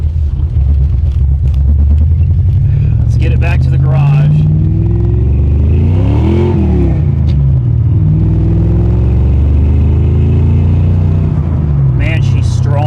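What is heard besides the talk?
1989 Mustang GT Foxbody engine, grinding gears, scraping exhaust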